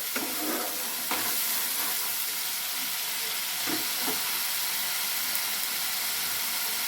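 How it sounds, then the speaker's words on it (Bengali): Onion frying in a pan while it is stirred, a steady close sizzle running throughout with a few scraping clinks from the spatula, no voices. "দেখো পেঁয়াজটা ভালো করে ফ্রাই করে"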